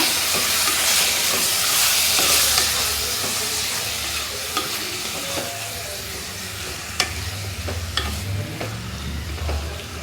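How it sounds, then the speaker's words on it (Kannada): Chicken liver fry being stirred in a hot pan, a loud hissing sizzle that eases slightly over time, with scattered sharp spatula scrapes and clinks and a low rumbling undertone, no voices. "ಚೆನ್ನಾಗಿ ಮಿಕ್ಸ್ ಮಾಡೋಣ."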